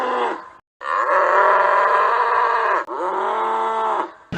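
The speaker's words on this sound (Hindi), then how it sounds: "तभी जगन की भैंस अचानक से चिल्लाने लगती है।" Cartoon buffalo bellowing in loud, drawn-out moos, two long calls separated by brief gaps, alone with no talk.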